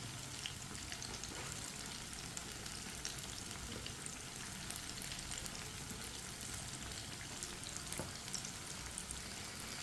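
Chinese pakoras deep-frying in hot oil over a medium flame, giving a steady, dense crackling sizzle that runs evenly throughout with no voices.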